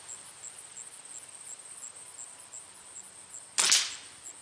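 A single sharp gunshot strikes a Triumph Systems reactive prairie dog target, one loud crack near the end after steady outdoor quiet with faint high insect-like hiss.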